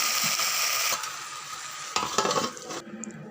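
A spoon stirs fish curry with lofa greens, cooked without masala, in a hot pan: close scraping and clinking over a loud sizzle that drops away near the end.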